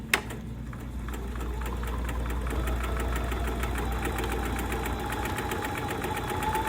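Bernina sewing machine stitching through thick layers of fabric for a tulip bag, a rapid, even mechanical chatter over a steady motor hum, close and continuous after a brief click at the start.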